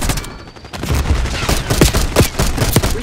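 Sustained gunfire in Call of Duty Black Ops 6: a loud, continuous barrage of overlapping shots and sharp cracks that runs the whole time, with a few heavier bangs standing out.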